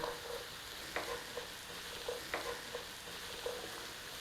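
Celery with carrots frying in butter in a pan, a soft continuous sizzle with occasional light clicks of stirring, close and fairly quiet, no voices.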